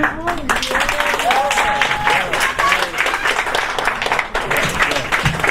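An audience claps and cheers after a spoken performance, a lively sustained round of applause with whoops and excited voices riding over it.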